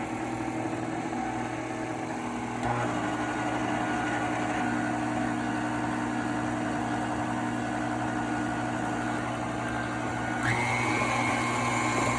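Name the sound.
electric mixer running on low speed mixing cookie dough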